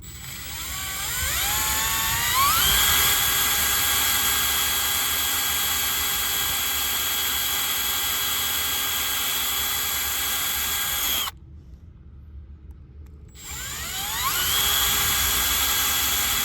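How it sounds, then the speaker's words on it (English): A wire brush spun by a power drill scrubs paint and primer off a Honda Civic Si car body, a loud steady whine that rises in pitch on spin-up, cuts out for about two seconds, then spins back up. "I just got to clean off some of this paint and the primer"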